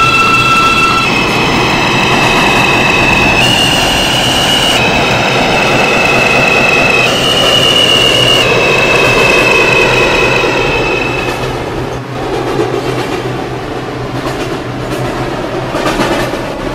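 A Brooklyn College–Flatbush Avenue bound New York subway 5 train runs loud and close, wheels and motors roaring steadily with rising and falling whine tones and rattling clatter throughout.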